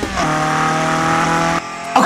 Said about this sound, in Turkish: Motor frenine bak kardeşim